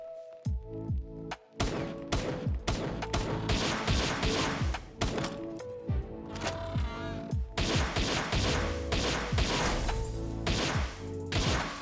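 Rapid pistol fire in the video game Palworld during a fight with an Alpha boss, dense repeated sharp shots with crashing impact hits, loud and continuous over the whole stretch with no talking.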